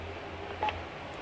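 A single short keypad beep sounds as the speakerphone button is pressed on a Panasonic PABX 824 telephone system, brief and clear against a quiet low hum.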